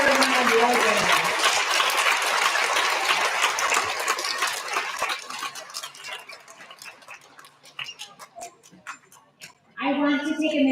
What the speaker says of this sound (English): Can we get one more big round of applause for all of our quarter one award winners?